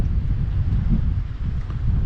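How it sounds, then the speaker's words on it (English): Wind buffets the microphone on open hills, giving a loud continuous low rumble with gusty swells and no voices. "it's breezy still"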